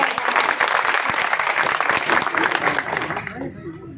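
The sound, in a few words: audience applause at speech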